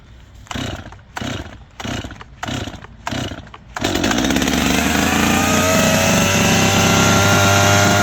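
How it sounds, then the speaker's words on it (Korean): Husqvarna chainsaw being pull-started on half choke: five quick rhythmic recoil-cord pulls, then the engine catches and settles into a loud, steady close idle that carries on alone. "이 상태에서 시동 걸릴 때까지 5, 6번 당깁니다."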